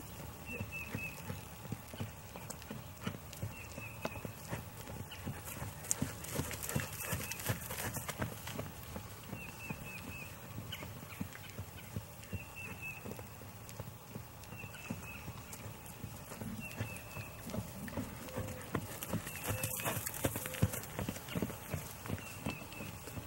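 Horse hooves thudding in a steady, light rhythm as the horse moves around a free lunge, moderately distant, with a faint voice at times.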